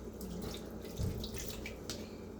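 Half a glass of water poured into a pan while cooking Spanish-style bangus, a faint splashing trickle with a slightly stronger gush near the middle, heard alone.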